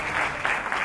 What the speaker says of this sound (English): Can we give a round of applause for single mothers?